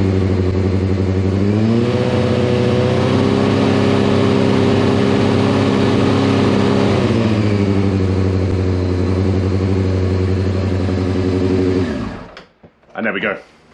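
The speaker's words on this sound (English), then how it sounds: "give the bike a little rev." A Honda CBR600 F4i motorcycle, being checked for a charging fault, idles steadily up close, then its engine is revved and held higher for several seconds before dropping back to idle and cutting off, with a few faint knocks after.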